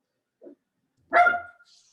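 A dog gives a short yip followed by one louder, fuller bark, close by and with no talking, then a faint trailing sound.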